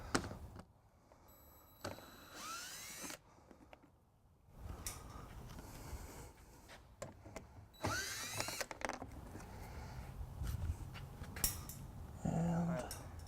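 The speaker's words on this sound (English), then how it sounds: "And we'll just be using the drill." A power drill whirs in several short bursts removing 10mm bolts from a 2012 Mini Cooper Countryman during trailer hitch installation, with clanking metal and handling noises between them at close range.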